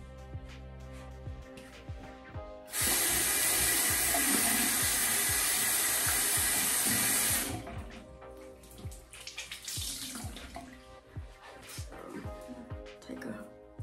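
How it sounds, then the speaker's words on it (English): A water tap runs steadily into a sink for a few seconds while skin care is rinsed off, then shuts off, leaving splashing and dripping from hands and face; a voice speaks briefly before the flow starts. "The next thing that I am going to do is rinse this off."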